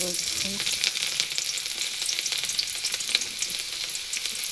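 Dried chillies crackle and sizzle loudly in hot oil for tempering cooked greens, a busy, close, continuous frying hiss with scattered pops.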